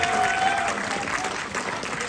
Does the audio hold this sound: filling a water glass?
no